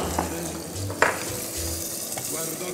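Tomato paste being stirred in a frying pan, with a continuous sizzle under scraping and a few clinks of a utensil against the pan, while someone talks quietly nearby.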